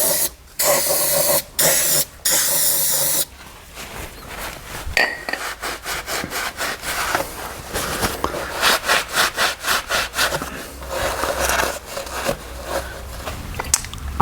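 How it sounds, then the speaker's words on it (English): Aerosol brake cleaner sprays in loud bursts onto Massey Ferguson MF35 tractor engine parts to degrease them, long hissing blasts followed by rapid scrubbing and rubbing strokes, close and alone. "I use a brake cleaner to clean up the sides because that's a good degreaser"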